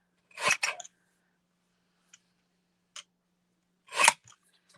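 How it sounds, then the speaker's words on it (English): Scissors cutting paper down to size for a card: a couple of quick close snips, a few faint clicks, then another crisp snip, each sharp and isolated against near silence. "I'm going to cut this down a little bit more, like closer to the words on each end"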